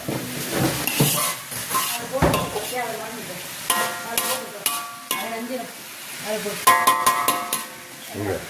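Onions frying in a pan for a cardamom-spiced dish, with steady sizzling and repeated stirring and scraping under intermittent conversation between people.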